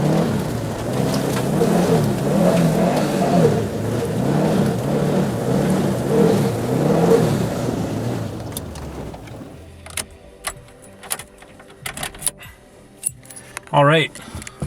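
A Subaru STI drives with a rhythmic, surging engine and road drone for about eight seconds, then fades to quieter scattered clicks and knocks with a short rising whine near the end.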